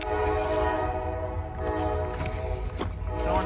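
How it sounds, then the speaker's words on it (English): A train passes along railroad tracks, its horn blaring loudly and continuously over a heavy rumble of rolling wheels, very close and dominating throughout. "Train just literally left."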